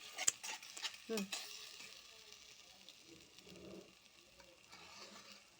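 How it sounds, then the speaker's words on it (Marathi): An egg drops into a hot pan for a soybean dish and begins to sizzle, with a couple of brief knocks and scrapes at the start, then a soft, steady frying hiss close by. "आता आपण त्याच्यात एक अंडा टाकूया फोडून."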